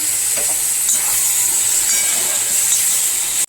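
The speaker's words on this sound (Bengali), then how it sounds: "এবার হচ্ছে আমি যে লঙ্কা আর হলুদের মিশ্রণটা করে রেখেছিলাম সেটা দিয়ে কষাবো।" Chili and turmeric paste sautéing with browned fried onions, a loud, even, close hiss of sizzling that holds steady and then cuts off abruptly.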